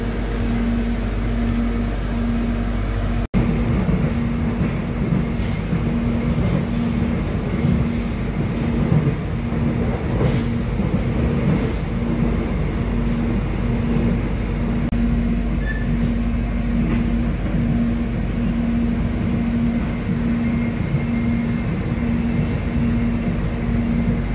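An airport rail link train rides toward Soekarno-Hatta airport, heard from inside the car as a steady low rumble with a constant electric hum and faint clicks over the rails, sustained for the whole stretch without talking.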